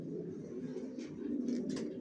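Racing pigeons of a Johnson long line coo steadily in a loft, a continuous low murmuring chorus of overlapping calls filling the space, close and fairly loud, with no talking.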